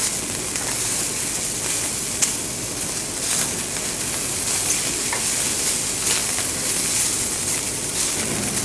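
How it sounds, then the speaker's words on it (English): Broccoli and other vegetables sauté in a hot pan, a loud, steady, close sizzle that carries on without a break and with no voices. "You can saute these for as long as you would like in terms of how crisp or cooked you want your vegetables."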